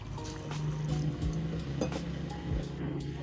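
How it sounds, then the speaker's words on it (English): Clean room-temperature water, about 500 millilitres, pours and trickles into a container, sloshing and gurgling softly at close range. "Start by filling a container with clean water."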